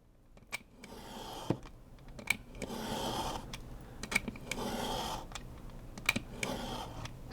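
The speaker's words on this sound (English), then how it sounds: "I'm going to go ahead and cut off the 1/8 inch at the bottom and then at the top" Scissors cutting a paper insert for a traveler's notebook, trimming an eighth of an inch from the folded side: a series of short, crisp snips and dry paper rustles, close and fairly quiet, with no talking.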